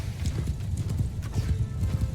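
Horse archers' hooves in the Bannerlord video game, a busy near clip-clop of many galloping horses crossing a field, steady throughout with a faint neigh.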